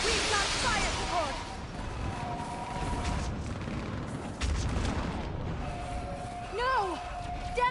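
Battle noise from the video game Mass Effect 3, with booming blasts and rumbling fire under constant shouted voices, plus whooshing, sweeping tones.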